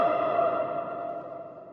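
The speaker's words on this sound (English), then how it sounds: "it just echoed even louder than my voice" A shout rings out and decays in a long, booming echo, the sound lingering and fading inside an abandoned concrete TNT bunker.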